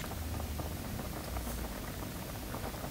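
Rice and lentils boiling in a pot, a steady dense bubbling hiss that holds evenly throughout at a fairly low, constant level with no voices.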